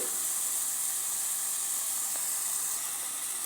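Food sautéing in a pan for bread kothu, a faint, steady sizzling hiss heard close and alone, with a couple of tiny clicks and no talking.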